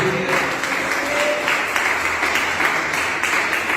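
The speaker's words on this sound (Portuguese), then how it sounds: "Você pode aplaudir ao Senhor nessa noite?" A church congregation applauds steadily during an evening service, a dense wash of clapping that continues throughout without pause.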